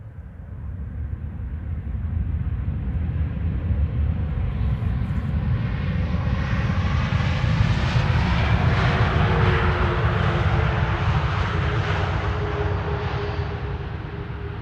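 A Delta Airlines Airbus A330neo landing at Amsterdam Schiphol after a flight from New York JFK, its engine roar building from faint to loud as it nears, peaking and rumbling on before easing slightly.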